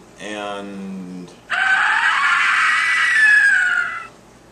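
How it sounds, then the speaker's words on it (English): A person lets out a loud, sustained scream lasting about two and a half seconds, just after a short voiced cry. It is close and clear, with no other sounds over it. "someone just screamed again."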